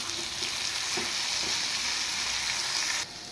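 New potatoes and eggplant frying in a pan for a fish curry, a constant bright sizzle with a couple of soft utensil knocks before it drops quieter near the end.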